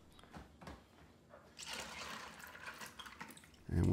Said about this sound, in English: here are the big pieces to be rinsed. And I do several rinses.